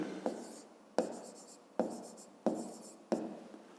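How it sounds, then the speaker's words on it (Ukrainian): Five sharp pen or chalk strokes, evenly spaced and fairly close, as a math solution is written down, each with a crisp onset and a short scratchy tail. "Ну і записуємо отже."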